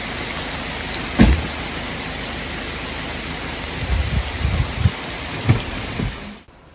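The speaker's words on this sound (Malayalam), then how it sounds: "കാടിനകത്തെ പുഴയിൽ മഴ പെയ്യുന്ന കണ്ടിട്ടുണ്ടോ" Heavy rain falls steadily onto a river deep in the Shendurney forest, a dense, even hiss with a few dull thumps and knocks scattered through it.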